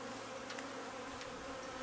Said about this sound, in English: Well, at least I know I at least have bees.